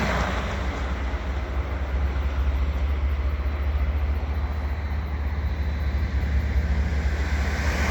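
A Union Pacific freight train rolls steadily past on the Waco subdivision, giving a continuous, loud low rumble that stays even for several seconds with no voices.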